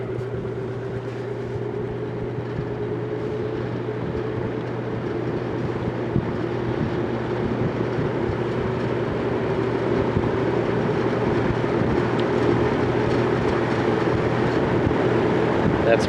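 Vintage General Electric 3-speed reversible box fan running on medium, a steady close whooshing drone with a low hum that holds even throughout, while a voice talks over it.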